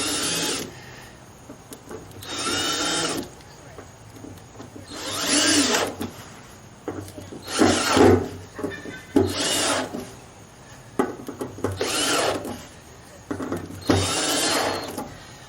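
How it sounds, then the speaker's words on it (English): A part fitted with a new gasket is screwed into the gas tank of a rotten old 1956 chop-top oval-window VW Beetle, giving repeated scraping, rasping turns of a few seconds each with short pauses in between. "let's go ahead and get this sucker screwed in here"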